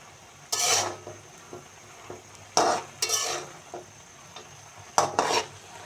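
Greens cook in a pan with rohu fish curry, onion greens and tomato, as several loud scraping stirs sound in bursts over a soft sizzle.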